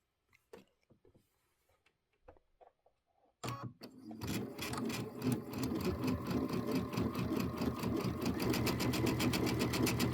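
Baby Lock Luminaire sewing machine running a center straight stitch: after a few quiet handling clicks it starts up abruptly and chatters in a fast, steady mechanical rhythm, close and clear.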